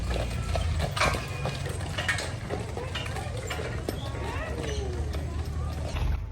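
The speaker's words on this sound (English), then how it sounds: "The horse has just pulled into town" A horse clip-clops steadily as it pulls into the town of Echuca, a fairly close run of hoof knocks mixed with rattling, creaking cart-like mechanics over continuous outdoor noise.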